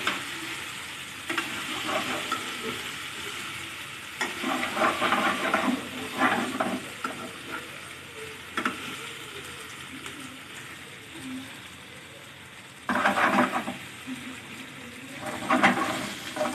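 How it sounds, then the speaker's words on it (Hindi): Chunks of taro root fry in a pan, stirred with chilli powder and turmeric. A steady close sizzle runs throughout, with bursts of louder scraping and stirring at intervals. "अच्छे से इसको मसाले के साथ मिक्स कर दीजिए"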